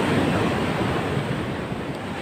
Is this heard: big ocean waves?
yes